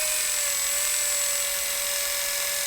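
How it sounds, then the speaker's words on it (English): A power drill boring through plastic whines steadily at constant speed, a continuous high-pitched drone with no talking. "just kind of go up and down with your drill"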